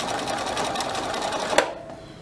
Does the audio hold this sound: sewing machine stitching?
yes